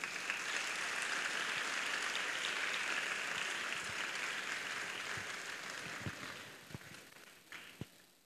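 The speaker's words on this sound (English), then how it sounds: "I think the parents need one more round of applause." Audience at a Bharatanatyam arangetram in Chennai applauding the parents, a steady wash of clapping that gradually thins into a few scattered, isolated claps.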